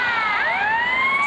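A police car siren in the game GTA Vice City wails loudly and close, its pitch sweeping in a continuous rising and falling tone, with no voices.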